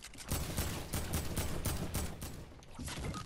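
Tommy gun fired in a video game, rapid bursts of automatic fire sounding close and loud in a dense rattling stream across the whole stretch, with brief gaps between bursts and no talk.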